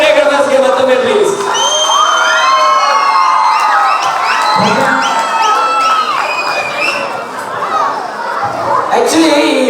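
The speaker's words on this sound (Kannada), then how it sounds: "ಬಲ್ಲಿ ಜೋರಾದ ಚಪ್ಪಾಳೆ ನಮ್ಮ ಎಲ್ಲ ಕೊರಿಯೋಗ್ರಾಫರ್ಸ್ಗೆ ಮತ್ತೊಮ್ಮೆ ಪ್ಲೀಸ್" An audience at a stage event cheers loudly for the choreographers, a dense wash of shouts, whoops and high whistles lasting throughout, with some clapping mixed in.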